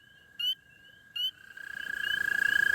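Spring peeper frogs and toads calling in a pond: two short sharp peeps, then a steady high-pitched trill that swells and grows louder, with no talk.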